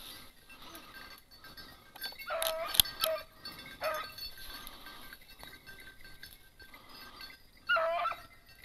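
Beagles bay while hunting hares in open country, giving a few short, distant yelps and howls spread across a quiet outdoor background.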